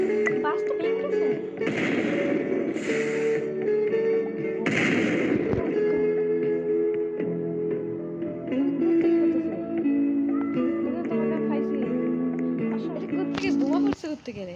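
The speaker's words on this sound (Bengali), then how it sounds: "বোমা পড়ছে কোত্থেকে রে?" Bombs go off in a multiplayer video game as several heavy bursts boom out over continuous music and game noise, while players talk throughout.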